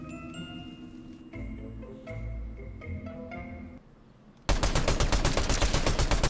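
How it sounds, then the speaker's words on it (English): Gunfire in a solo run through a duo tournament in a battle-royale shooter, a dense loud burst of rapid shots arriving near the end over quieter game ambience and tones. "Sent a couple warning shots his way."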